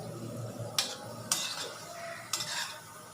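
Metal spoon stirring bread gulab jamun as they fry in oil in a kadhai, three sharp scraping clinks against the pan over a soft, steady sizzle.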